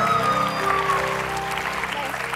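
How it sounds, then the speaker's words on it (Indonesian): Studio audience clapping on a Family 100 game show, a dense, loud burst of applause mixed with music tones and voices. "Tepuk tangan dulu dong buat Ica ini."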